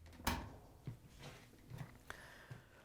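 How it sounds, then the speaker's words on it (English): A Whirlpool dryer door is pulled open with a sharp latch clack, followed by a few quieter knocks and thumps as the door swings and settles, heard close in a quiet room. "First thing we're going to do is open up the dryer door."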